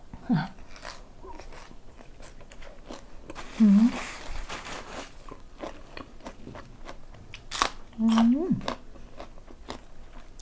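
Someone bites into and chews crisp lotus stem eaten with fresh-shrimp som tam, making a few loud close crunches between quieter chewing. Soft mouth noises fill the gaps.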